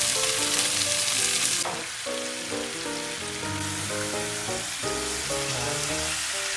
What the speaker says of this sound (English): we're gonna go ahead and sear these suckers up right here.